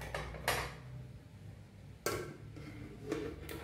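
A metal lid set down on a rice pot of jeera rice on a home kitchen stove, giving a few light clanks and rattles, with a sharper clink near the middle and softer taps after, over a low steady background hum.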